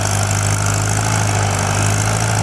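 A Farmall C tractor engine runs steadily while plowing a field, a loud, close, continuous low drone with a constant hum and no change in pace, with no voices over it.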